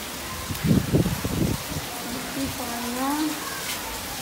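Sudden heavy rain over open ground with bare earth, a steady broadband hiss of falling water, with a person talking in the middle of it.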